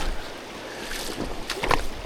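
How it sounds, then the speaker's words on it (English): Strong wind by the River Stinchar buffets the microphone in a steady roaring rush, with louder gusts swelling toward the end. "Very windy though."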